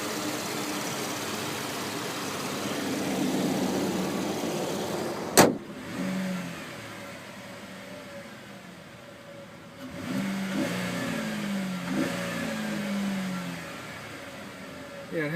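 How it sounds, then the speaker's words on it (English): A 2012 Chevy Impala LS idles with a low steady hum, then revs up in a couple of moderate swells before settling, with a sharp click or thump midway. The engine is recorded close up and no voices are heard. "It does sound somewhat raspy as soon as you have it in the higher rev range,"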